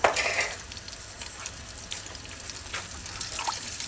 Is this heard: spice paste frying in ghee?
yes